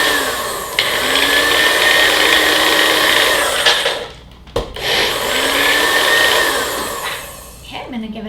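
A blender whirs loudly and steadily while it blends coconut oil into raw butter, with a brief dip and restart as the jar is shaken partway through.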